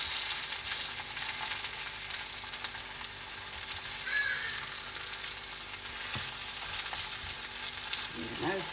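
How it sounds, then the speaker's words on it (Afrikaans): A sausage (banger) fries in a pan with a dense, steady sizzle and crackle that runs throughout, fairly close and loud, with no one talking. "Julle hoor hom. Heerlik braai daai worsie."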